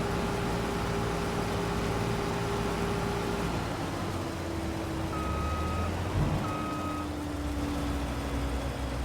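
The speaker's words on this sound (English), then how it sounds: "That beeping, so you guys know, is the vehicle control add-on, aka the GPS." A GPS vehicle control add-on in Farming Simulator 25 gives short, evenly spaced beeps over the loud, steady drone of a farm machine's engine.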